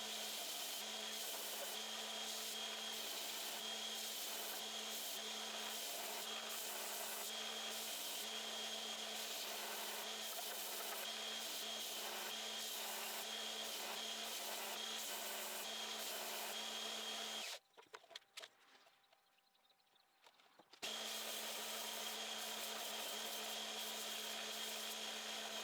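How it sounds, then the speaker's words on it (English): Belt sander working on wooden climbing hold pinches, a steady loud motorized whir with rasping grit, running continuously, cutting out briefly for a few seconds near the end, then resuming. "Next step, sanding the pinches."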